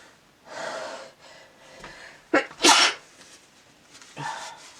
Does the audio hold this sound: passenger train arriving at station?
no